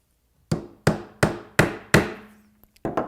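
A hammer strikes a cedar planter box board six times in a steady rhythm, each blow a sharp, close, woody knock with a short ring, followed by a couple of faint taps.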